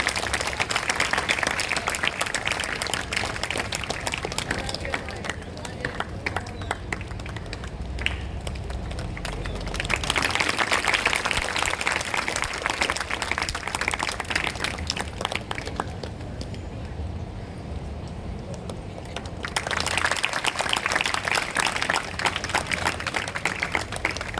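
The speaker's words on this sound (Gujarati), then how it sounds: "તાળીઓના ગડગડાટ સાથે વધાવીએ." At a school admission ceremony, a crowd claps long and steadily, a dense patter of many hands close by, which swells and eases in waves over about twenty-four seconds.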